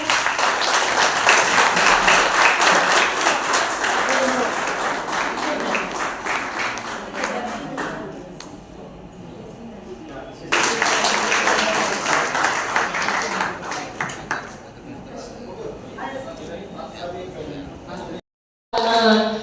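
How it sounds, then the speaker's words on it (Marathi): An audience claps at an award ceremony for a festival in 2024. The applause is sustained and loud, sags in the middle, then swells again before cutting off, with voices mixed in. "सर्वांनी टाळ्यांचा कटकला"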